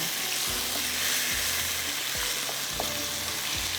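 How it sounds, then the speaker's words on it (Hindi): Pepper chicken frying in a pan sizzles steadily while a utensil scrapes and knocks against the metal in a loose rhythm of about six strokes, close up and with no talking. "बस इसको अच्छी तरह से आपने इस तरह से मिक्स कर देना है।"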